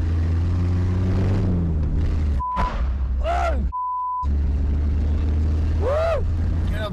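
A car speeds along a shelled road, its engine roaring loud and steady with rising and falling pitch sweeps, broken twice by sudden sharp tonal beeps and brief near-silent dropouts.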